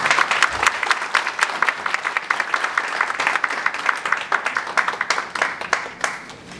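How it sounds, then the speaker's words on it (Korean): Audience at a forum on payment system reform applauds, a dense, fairly close round of clapping with individual claps distinct in a loose rhythm, holding steady for several seconds before tapering slightly. "큰 박수로 보내주십니다."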